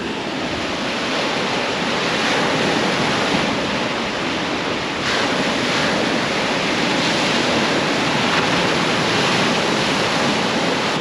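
Waves on Lake Ontario churned up by an easterly wind: a constant broad wash of surf with wind rushing across the microphone, loud and unbroken, with no voices.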